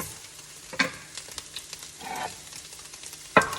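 A sausage being put back into a pan on very low heat beside a cooking egg, soft steady sizzling punctuated by a few sharp clacks and scrapes, close by.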